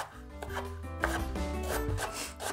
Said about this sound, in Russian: Берем очищенный лук и тонко нарезаем его перьями